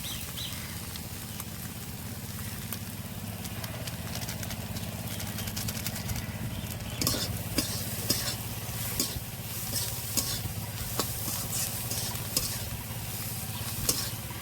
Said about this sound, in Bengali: ধনে পাতাটা দিয়েও আবারও কিছুক্ষণ নেড়ে নেব